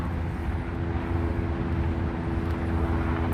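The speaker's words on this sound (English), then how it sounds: "I hear the helicopter in the sky right above us." Steady low droning rumble of a helicopter passing overhead above the Hudson River in New York City, continuous and fairly loud with no voices.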